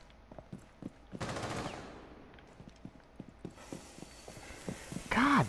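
Gunfire in Rainbow Six Siege, scattered single shots and a short rattling burst at mid-distance, with mechanical clatter and a brief higher-pitched effect near the end; no talk.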